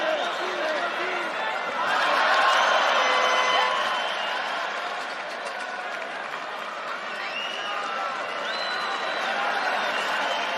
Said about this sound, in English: the crowd are getting behind it